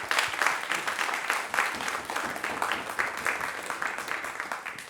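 An audience applauds after a conference talk, a dense, steady patter of many hands clapping at moderate distance, continuing evenly for several seconds.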